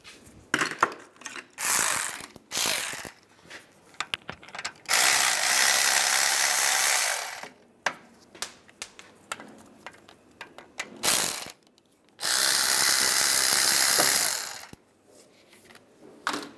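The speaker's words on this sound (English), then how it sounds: "Using a 15 millimeter socket, we're going to take the caliper and the bracket off together. Take these two bolts out." A ratchet fitted with a 15 mm socket removes the brake caliper and bracket bolts on a 1995-2001 Ford Explorer front wheel, with rapid close clicking in long sustained runs alternating with short bursts and quiet gaps.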